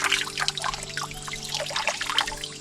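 Water trickles and splashes steadily with a bright, bubbling texture, close by, with a faint low hum underneath and no talking.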